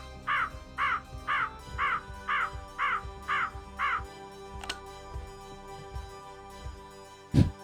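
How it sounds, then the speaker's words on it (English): A mechanical crow caws in the horror game Echo Night, eight evenly spaced harsh caws in a steady rhythm, followed by scattered clanks and a sharp final hit over a low droning background. "there's a mechanical crow down here that we can fix with that gear from the nursery"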